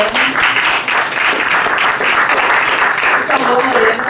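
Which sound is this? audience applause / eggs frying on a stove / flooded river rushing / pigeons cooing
audience applause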